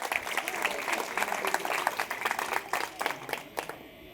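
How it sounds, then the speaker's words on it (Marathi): Audience clapping at a school lucky draw event, a dense burst of hand claps from a nearby crowd, with a voice speaking over it at times. "जोरात टाळ्या वाजवा"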